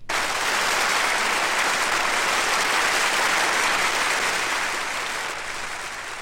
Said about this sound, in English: When he has finished playing, applaud again to show your appreciation of his beautiful performance.